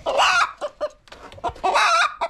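Farmyard chickens and Indian roosters cluck loudly and close by in quick, uneven bursts with a short pause in the middle and no voices.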